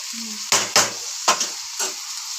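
Tomatoes fry in a pan with a steady background sizzle, broken by several loud, sharp bursts of spatter and scraping as they are stirred, about four distinct hits.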